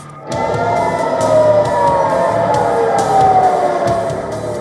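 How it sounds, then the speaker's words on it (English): Air raid sirens wail across central Israel, a loud sustained rising and falling tone that fills the whole stretch with slow pitch sweeps and steady background noise, with no talk over it. "Sirens blare across central Israel."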